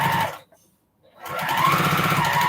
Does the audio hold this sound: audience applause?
no